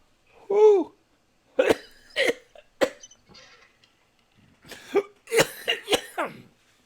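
Several harsh coughs in quick bursts, with a gasping, strained voice between them and short pauses.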